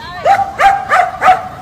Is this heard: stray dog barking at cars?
yes